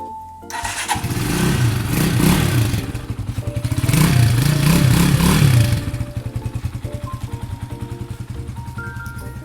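A 2019 GPX Legend 150 motorcycle in good running order starts with a sharp burst, then idles with a steady rapid putter that swells in two short revs before settling back to an even idle, close and loud, with no talking.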